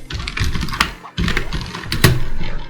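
Computer keyboard typing while entering JavaScript alert code, a steady run of small clicky keystrokes with a few louder taps and a brief pause partway through.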